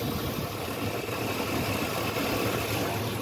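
Truck engine idling smoothly despite a stored misfire code, a steady low rumbling hum held at constant level without talking.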